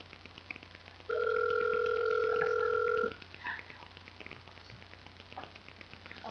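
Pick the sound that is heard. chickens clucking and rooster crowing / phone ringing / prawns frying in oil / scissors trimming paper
phone ringing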